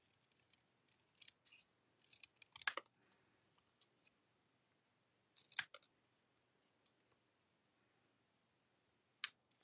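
Scissors snip paper in short, faint bursts, with a quick run of small cuts followed by sparser single snips and light clicks at close range in a quiet room.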